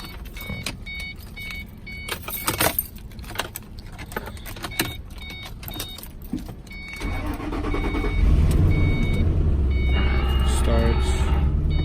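A car engine is started with keys after some jingling and clicks, then the motor cranks and catches into a loud, steady idle that fills the rest of the stretch, with a voice briefly heard.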